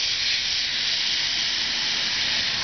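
A steady, high-pitched hiss of a fuel injector spraying cleaner constantly and close, with no pauses or other sounds.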